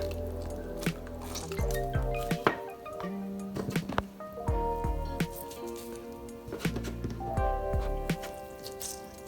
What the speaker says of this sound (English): So you need to squeeze the water out, but also keep some moisture.